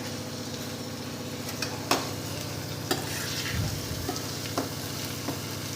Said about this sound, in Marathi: लाल मिरची आणि हिरवी मिरचीचे जे लांब लांब काप केले होते ते आपल्याला सोडून द्यायचे आहे, हे पण थोडे होऊ द्यायचे आहे